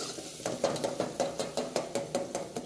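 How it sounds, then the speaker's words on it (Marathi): Chopped green chillies and onion sizzle softly in a pan while a spatula stirs them in a quick, even rhythm of about ten scraping strokes, close by. "टाकल्यानंतर हिरवी मिरची जी आपण बारीक चिरून घेतलेली छान असं हलवून घ्यायचं"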